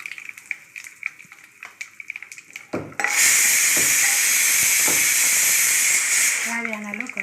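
Light stirring taps, then a sudden loud, steady sizzle of ground onion hitting hot oil with asafoetida that hisses on for several seconds before easing off.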